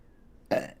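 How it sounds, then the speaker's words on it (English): A single short, close burp, loud and abrupt against a quiet room. "Excuse me, I burped."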